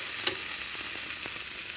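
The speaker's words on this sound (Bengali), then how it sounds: "সেই বাদ দেওয়া আলুটা আমরা আজ রান্না করছি কচুরমুখী দিয়ে।" Potato trimmings and taro cooking in a pan give a soft, steady sizzle at low volume, with a brief louder tap or stir near the start and no talk.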